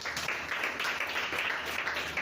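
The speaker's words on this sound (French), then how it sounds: "Acclamons pour Emma." Applause for a girl named Emma at a Sunday school church service, a steady wash of claps from the congregation lasting a couple of seconds without pause.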